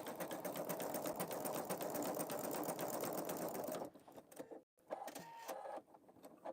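Pfaff Creative Vision sewing machine embroidering a design, a fast steady needle chatter that runs for about four seconds, then breaks into short irregular bursts and brief pauses, close, with no talking.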